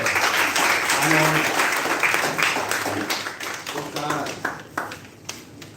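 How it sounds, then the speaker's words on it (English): Applause from a crowd, dense at first and then thinning into scattered claps as it fades out. "Clap for you"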